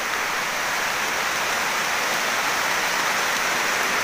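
Heavy rain pours down steadily in a forest, a dense, loud, unbroken hiss of drops falling on leaves and ground, with no voices heard.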